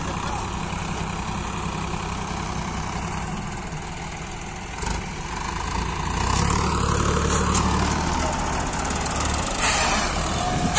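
Two new tractors, a Powertrac Euro 50 Plus and a John Deere 5210, run their diesel engines in a pulling contest, with a steady low idle rumble that swells louder and heavier partway through as load builds.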